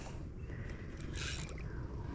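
A fishing reel's drag clicks and whirs as line pays out while fighting a peacock bass at a park lake, a bright ratcheting buzz over steady outdoor background noise.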